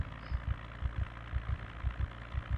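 A car engine idling in the zombie survival game Project Zomboid, a low, rumbling throb with regular pulsing beats, fairly quiet and steady with no voices.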